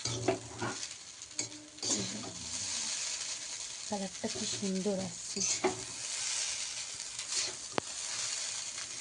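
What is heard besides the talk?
stirring vegetables frying in a pan for chowmein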